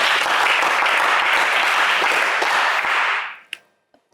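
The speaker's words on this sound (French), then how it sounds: "On applaudit Franck" Studio audience applause on a French game show pours out loud and sustained, then cuts off abruptly into near silence, followed by a couple of brief sharp sounds.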